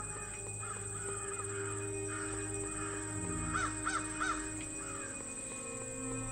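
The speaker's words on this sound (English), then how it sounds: "These crow sounds." Crows caw in an RPG horror game, several harsh calls breaking out in a cluster midway over a steady droning ambient background.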